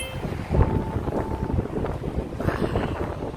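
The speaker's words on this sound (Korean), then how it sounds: "바람이 너무 많이 불어" Strong wind buffets the microphone outdoors during the rainy-day delivery of a new Volvo XC40 Inscription, a continuous loud rumbling roar with gusty swells and no clear talk.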